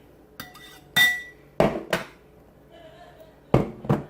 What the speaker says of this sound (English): And just kind of chop it down in there